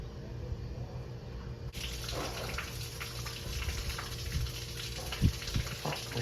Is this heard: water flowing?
yes